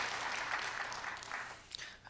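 Church congregation applauding two elders at a Wednesday worship service, a steady, dense wash of clapping from many hands that holds evenly throughout and thins slightly toward the end.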